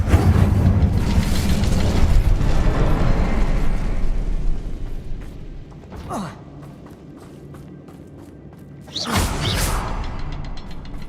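In the Hogwarts Legacy game on PS5, a cast Incendio fire spell erupts with a loud whooshing blaze that fades over several seconds, followed by a sharp swish and later another burst of fiery whoosh.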